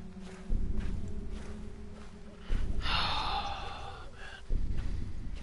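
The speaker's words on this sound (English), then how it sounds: "Nobody's actually breathing on their mic, it's the game." Heavy breathing from the Slender horror video game comes in a few loud, harsh gasping swells over a low background hum, close and rhythmic, with a brief rush of breathy noise midway.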